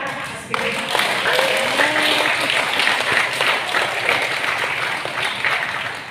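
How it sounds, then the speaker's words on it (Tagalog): A large church congregation claps steadily, a dense continuous wash of applause that holds for several seconds before easing slightly. "Dapat magpapalakpak kayo kay Lord."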